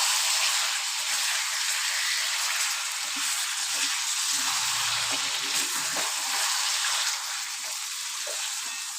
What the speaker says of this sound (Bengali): মাটনটা 5 মিনিট আমাদেরকে এভাবে কষিয়ে নিতে হবে।